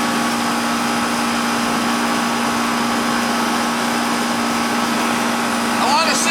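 An 18-year-old Goodman central air conditioning unit that is not cooling runs up to speed outdoors, a loud steady mechanical hum and whir with a constant tonal drone, and a brief voice near the end.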